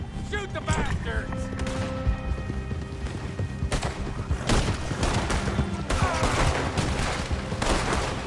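Shootout in Red Dead Redemption 2, with dense, overlapping gunshots and volleys of fire throughout, scattered with clattering sounds and voices shouting beneath the barrage.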